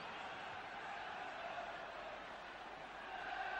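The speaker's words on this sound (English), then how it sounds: "Just listen to the Goodison Park crowd getting behind their side now." Football crowd at Goodison Park during an Everton v Fulham FA Cup fifth-round match in 1975, a steady dense roar of cheering and chanting that holds at full volume throughout.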